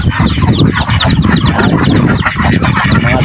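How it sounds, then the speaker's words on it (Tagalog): Dense, loud fowl calls overlap continuously, a busy flock of chickens clucking and squawking close by with no pauses. "Yan, yung mga alagang manok dito."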